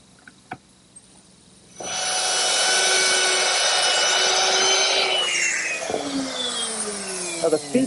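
A biscuit joiner cuts slots into a wooden miter joint for a secretary desk, a loud steady whine of the power tool starting after a couple of light knocks, running about three seconds, then winding down with scattered clunks.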